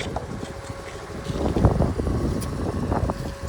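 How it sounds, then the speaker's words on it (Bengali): Strong wind gusts across an open elevated spot, a steady broadband rush that swells louder midway and keeps blowing against the microphone with no talk. "আর খুব একটা হাওয়া চলছে।"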